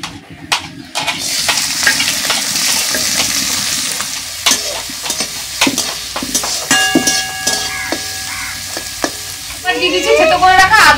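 Chopped onion and chili hit hot oil for spicy potato bread patties, setting off a loud, steady sizzle with stirring scrapes and clinks of utensils against the pan.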